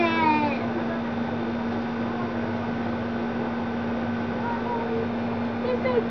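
A thin, high-pitched mewing from a newborn kitten with eyes not yet open, repeated a few times over a steady hum, with speech in the background.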